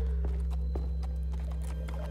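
A horse in The Walking Dead video game, with a few hoof clops and a faint whinny over a loud steady hum, close and brief.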